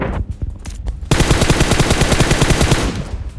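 Gunfire in PUBG Mobile: a few scattered shots, then a loud, sustained burst of rapid automatic fire with closely spaced reports that continues for about two seconds and fades at the end.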